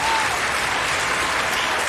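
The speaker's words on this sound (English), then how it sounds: "Warm round of applause" Steady audience applause rings out for almost two seconds at a fan debate event, a dense even patter of clapping with a faint whistle-like tone near the start.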